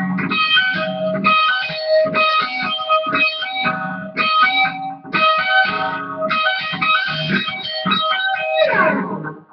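An electric guitar with a distorted tone plays a picked, hammer-on and pull-off riff. The notes come in rapid repeated bursts with short gaps and no voice.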